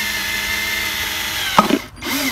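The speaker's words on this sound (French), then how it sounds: "percer un trou pour que l'eau puisse facilement s'évacuer" A power drill boring a drainage hole through the bottom of a plastic flower pot, a steady close whir that strains briefly as the bit breaks through, then stops.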